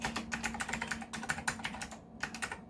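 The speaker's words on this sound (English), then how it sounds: "So let's type." Typing on a 486 PC computer keyboard, a close, fast run of clacking keystrokes with a short pause before a few more.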